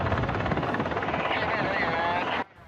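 A rescue helicopter flies on a mountain rescue callout in Taitung, Taiwan, its steady, loud rotor-and-engine roar filling the scene close by before cutting off abruptly near the end.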